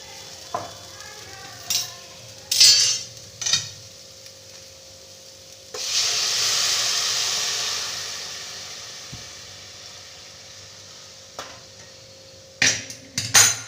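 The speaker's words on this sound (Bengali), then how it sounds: "এবার যে আমি দুধটাকে জাল দিয়ে রেখেছি দুধটাকে এর মধ্যে ঢেলে দেব" Boiled milk is poured into a pan of lightly fried sweet potato for a payesh, first a few scattered clinks and stirs, then a steady hissing pour that fades slowly, closing with more utensil knocks.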